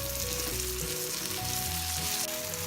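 Finely chopped tomato sautéing in a pan with onions for masala egg bhurji, a dense, even sizzle close by throughout, with no voices.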